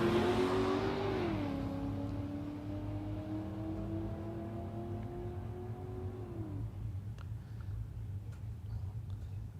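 A Ford Falcon ute's engine roars away under hard acceleration down a drag strip, revving up through a gear change and then fading into the distance, leaving a low background rumble.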